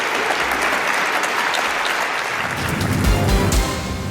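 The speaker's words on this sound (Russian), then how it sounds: "Участники отреагировали на речь красноречивыми аплодисментами." An audience applauds after a political speech, sustained clapping from a crowd heard clearly on its own throughout, with slightly heavier claps toward the end.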